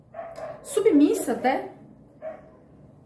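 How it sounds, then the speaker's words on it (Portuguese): Dogs bark amid street noise, with a few short yaps and barks mixed in close under a person talking. "Hoje tá um monte de barulho, né? É moto, é cachorro, tudo junto."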